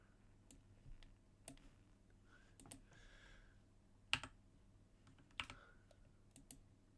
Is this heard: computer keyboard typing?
yes